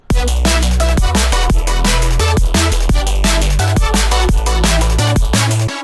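A loud electronic dance drop with punchy kick and snare hits, deep sustained bass and bright synth chords pumping in a steady driving rhythm.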